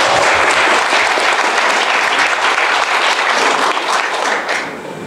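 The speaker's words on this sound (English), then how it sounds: "give yourself a round of applause" A large crowd at a business presentation applauds loudly and steadily, a dense wash of clapping that holds for several seconds before easing slightly at the end.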